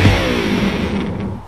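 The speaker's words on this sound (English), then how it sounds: "An electric guitar." An electric guitar is thrown and smashed, giving one loud impact whose strings ring on in a sustained, resonant drone that slowly decays.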